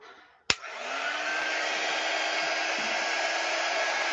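A hair dryer clicks on with a sharp snap and then blows a steady, loud, close whirring hum while drying an embroidery hoop Christmas craft.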